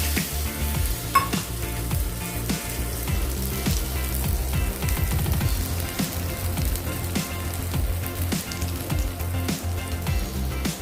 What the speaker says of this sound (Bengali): এবার তেলের মধ্যে দেবো পোস্ত বাটা